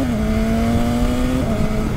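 A 2019 BMW S1000RR motorcycle accelerates hard with its quick shifter, a loud, close, high-revving engine drone that drops sharply in pitch at one crisp upshift and then keeps pulling.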